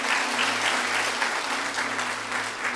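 A church congregation claps together at the close of a prayer, dense steady applause filling the room for a few seconds with no voices over it.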